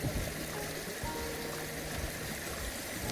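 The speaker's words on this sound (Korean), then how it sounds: "자 우측으로 멋진 폭포가 보입니다." Mountain valley stream with a waterfall on a hiking trail, a steady broadband rush of flowing water filling the short stretch at constant loudness, close and unbroken.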